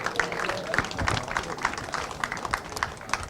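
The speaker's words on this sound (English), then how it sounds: "Ladies and gentlemen, another round of applause, please, for your Junior X30 finalists." Crowd applause for the Junior X30 kart finalists at a British kart championship round at Whilton Mill, steady clapping from a crowd at moderate volume, without talk.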